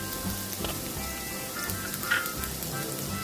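Sliced capsicum and thinly cut beans sautéing in a pan for a Maggi masala, a close, steady sizzle with soft scraping stirs and occasional crackles throughout.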